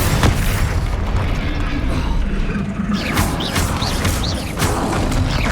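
Confringo fire-blast spells in Hogwarts Legacy go off as loud booming bursts among clanking, crashing combat effects, several blasts packed into a few seconds of busy fighting.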